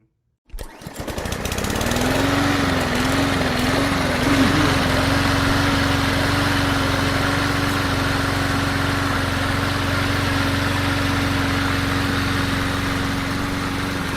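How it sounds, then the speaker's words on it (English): A lawnmower with a loud engine sputters to life and then drones on steadily while mowing a lawn, a close, continuous buzzing roar with a slight wavering pitch early on. "Soon he heard the sound of someone mowing their lawn, and this lawnmower did not have a quiet engine."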